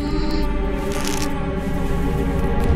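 A sustained minor chord with an added major seventh from the Tales of Zale film soundtrack, a dense held harmony that rings steadily throughout with no speech over it.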